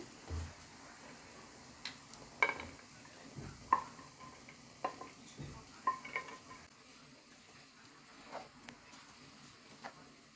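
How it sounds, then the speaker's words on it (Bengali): Cooked rice and raisins being added to a pan and stir-fried for fried rice: soft sizzling under scattered scrapes and clinks of a spoon against the pan, quiet and intermittent. "এখন রাইসটা দিয়ে দিচ্ছি। দিয়ে দিচ্ছি কিশমিশ, সব একসাথে ভেজে রেখেছি, দিয়ে দিচ্ছি।"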